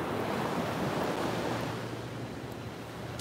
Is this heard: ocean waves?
yes